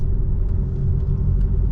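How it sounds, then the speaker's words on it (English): A car pulling up in a lay-by produces a close, steady low engine rumble that holds evenly throughout, with no voices. "And now another one pulling up with a bed in the back."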